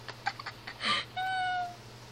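A kitten gives a few soft, close sounds, then two short meows, the second a drawn-out, high, clear cry over a faint indoor hum.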